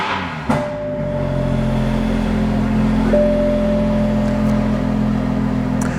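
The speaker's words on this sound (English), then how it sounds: "So I'm going to start the car and let you guys see exactly how this works with the throttle." A Toyota A90 Supra fitted with an HKS blow-off valve starts up: a brief sharp starter burst, then a steady low idle hum with a thin whine running throughout.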